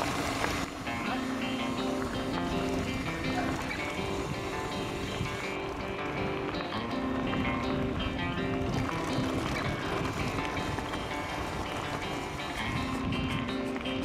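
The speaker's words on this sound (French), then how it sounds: "C'est caillouteux comme chemin. Et du coup, quand ça tabasse comme ça, Corinne, ça va?" A gravel bike rattles and clatters over a stony path north of Poitiers, giving a dense, continuous, loud jangle of loose stones and vibrating frame.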